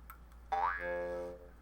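A single twangy jaw harp note is plucked, its buzzing harmonics sliding upward then holding steady for about a second before fading.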